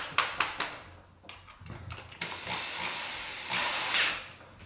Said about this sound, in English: Got our 2 pilot holes drilled.